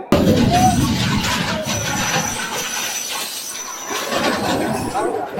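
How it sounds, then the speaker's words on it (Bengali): A crowded local train pulls out of the station, giving a loud continuous rumble and rattle of carriages with some wheel noise, heard from on board. "আমাদের ট্রেন ছেড়ে দিচ্ছে"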